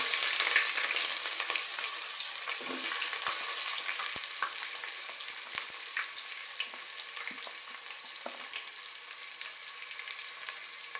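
Onions sizzle steadily in a pan for chicken pulao, a constant close hiss with faint scraping and a few soft clinks, and no talking.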